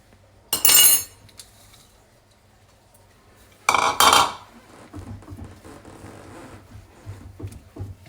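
Peanuts tipped into caramelized sugar in a pan, two sharp bursts of hard clattering and scraping against metal, followed by quieter intermittent stirring and tapping.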